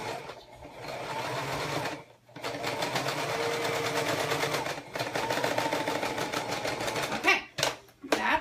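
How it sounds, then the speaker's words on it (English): A cheap home sewing machine labors through thick zipper seams in steady continuous stitching bursts, pausing briefly a few times, with a voice talking faintly alongside. "my machine is not happy about all these seams"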